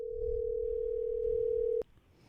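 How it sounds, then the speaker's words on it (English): A single steady telephone ring tone sounds for about a second and a half over faint background noise during a call, then cuts off abruptly. "I hear the ringing."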